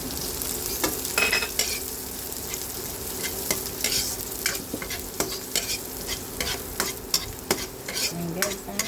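Garlic and onion sauté in a pan over medium heat for a home-style sarsyado, with a continuous soft sizzle broken by frequent sharp clicks and scrapes of stirring, close and without talk.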